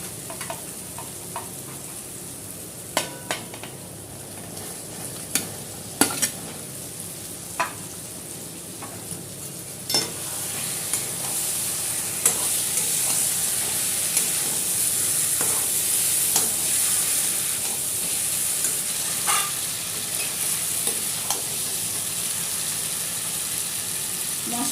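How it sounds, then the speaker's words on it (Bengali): Fried potatoes get stirred into a sizzling spice masala for dhokar dalna, a steady close-up fry with sharp scraping knocks of the spoon against the pan, the sizzle swelling louder as the potatoes go in. "এবার ভেজে রাখা আলুগুলি দিয়ে দেব।"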